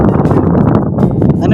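Wind buffets the microphone outdoors in cold mountain air near a farm around Baguio, a steady low rumble with gusting swells running the whole time and voices talking over it.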